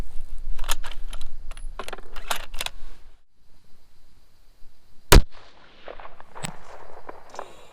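A single loud, sharp rifle shot fired through a scope at a 4-inch target outdoors in cold weather, preceded by clicking and handling noises and followed by a fading echo.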